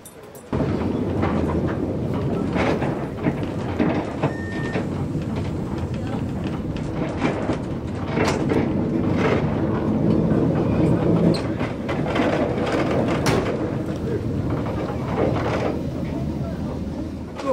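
A historic tram runs at the Hanover tram museum during a vintage vehicle day, producing a steady, loud rolling rumble with rail clatter and metallic clicks that lasts throughout.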